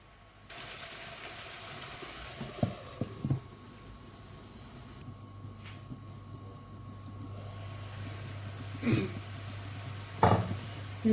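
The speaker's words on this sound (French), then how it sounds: "Là, notre marmite commence à bien mijoter" A pot of onion sauce for thiebou simmering, a low steady bubbling hum with a few clinks of utensils against the pot, fairly quiet and close.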